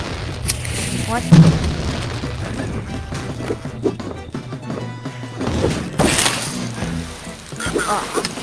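Cannon blasts in the Rec Room video game boom and crash in scattered bursts, several heavy impacts rising over a busy backdrop of game noise, one especially loud around the middle-to-late stretch.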